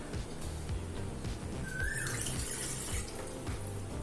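Water pours steadily into a pressure cooker while making milk payasam, a continuous rushing flow at close range, with a brief faint whistle-like tone partway through.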